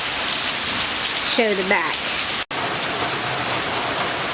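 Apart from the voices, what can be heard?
rain falling in a backyard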